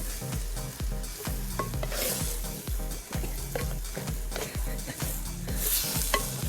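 Spicy Kasaragod chicken varavu masala sizzles and fries in a pan while a spoon stirs it in steady rhythmic scrapes, loud and close, with no voices.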